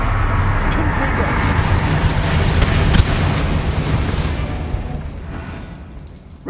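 Blasting spell effects from the Hogwarts Legacy video game, a dense barrage of loud booming impacts and crackling bursts that runs continuously, slowly thinning toward the end, with voices underneath.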